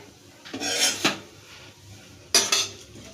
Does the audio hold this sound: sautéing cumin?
yes